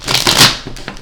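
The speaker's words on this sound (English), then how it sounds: "So let's get right into it and shuffle the cards." Tarot cards are shuffled by hand in one brief, close riffle of papery rustling and flicking that fades quickly.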